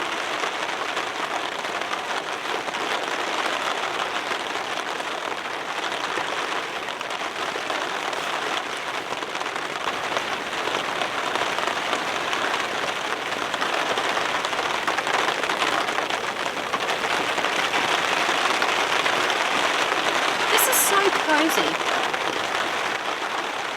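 Heavy rain drumming steadily on a bivvy bag in a forest, a dense, close, continuous patter throughout, with a brief spoken word near the start.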